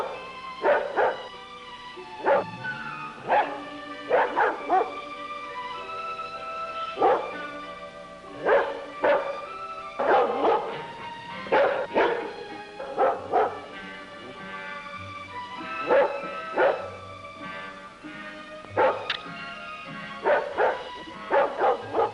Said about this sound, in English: That dog has been barking for the last hour.